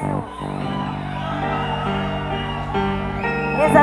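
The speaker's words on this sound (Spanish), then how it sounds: "A ver, ahora el grito de los solteros." A concert crowd of singles shouts and whoops on cue, a loud sustained group cheer with music tones underneath and a voice over it.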